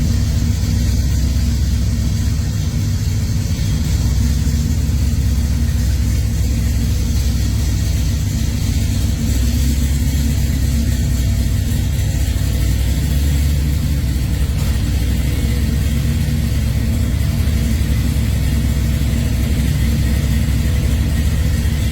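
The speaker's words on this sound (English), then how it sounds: "This 1969 El Camino features a blown big block V8 engine" A supercharged big block V8 in a 1969 Chevrolet El Camino rumbles steadily at idle, deep and loud, with a heavy low throb and no talking.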